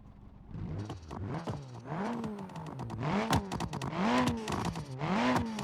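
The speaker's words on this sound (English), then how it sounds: "That's a nice crackle there." A rally car engine in BeamNG.drive revs up and down repeatedly on Baja hills, its exhaust popping and crackling between throttle blips, loud and close with no talking.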